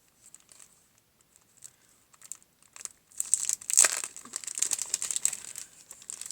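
A plastic packet of self-adhesive mosaic squares being opened, with faint crinkling at first, then louder crinkling and tearing bursts in the second half, heard close up with no talking.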